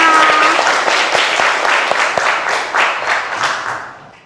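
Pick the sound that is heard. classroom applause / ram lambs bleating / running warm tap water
classroom applause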